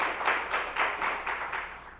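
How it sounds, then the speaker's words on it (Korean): A church congregation clapping in blessing for its Sunday school and youth members during a Sunday worship service, quiet steady rhythmic claps heard from a distance with no talking. "우리 축복하는 마음으로 한번 박수 한번 칠까요?"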